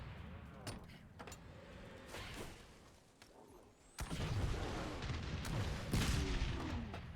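Booming explosions and bursts of gunfire-like blasts in a Halo video game, loud and dense, swelling sharply midway and staying intense to the end.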